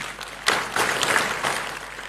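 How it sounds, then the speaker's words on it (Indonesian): A church congregation in Bandung breaks into brief applause, a short burst of scattered clapping at moderate volume with a slightly roomy sound. "Katakan, tepuk tangan dong."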